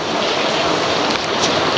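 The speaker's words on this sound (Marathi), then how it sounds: "खूप खूप पाऊस झालेला आहे." Heavy monsoon rain pours down during a flood night in Washim, a dense, steady roar of broadband wash that stays loud and unbroken throughout, with no voices.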